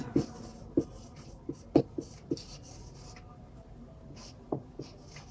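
Marker or chalk strokes on a classroom board during an English grammar lesson, a series of short, sharp taps and scratches spaced irregularly, fairly close and quiet, with no talk over them.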